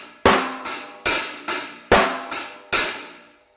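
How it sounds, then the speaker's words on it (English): Drums play a 2/4 pattern alternating hi-hat and snare, eight sharp strikes in an even two-beat rhythm, close and loud, ringing out at the end. "I'm going to play a 2/4 phrase on the hi-hat and snare."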